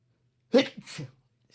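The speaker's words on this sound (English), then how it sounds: "I gotta sneeze." One sharp human sneeze, close and fairly loud, in a two-part burst with a quick breathy follow-through, then quiet.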